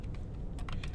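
A computer keyboard clicks quietly in a short burst of typing, a few quick keystrokes close by over a soft background hum.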